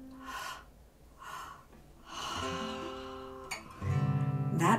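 A voice imitates labor breathing, with two short sharp breaths in followed by one long breath out. The pattern repeats across several audible gasps and exhales, close and clear.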